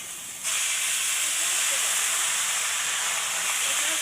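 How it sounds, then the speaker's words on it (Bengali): Hot water poured onto fried rice in a pot for white pilaf, bursting into a loud, steady hiss of sizzling steam after a brief quieter moment, continuing without pause. "চালটা কিন্তু আমার ভাজা হয়ে গেছে। এখন হচ্ছে পানি দিয়ে দেবো,"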